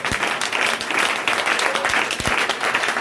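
Church congregation clapping loudly and continuously, a dense close wash of applause filling the space with no break.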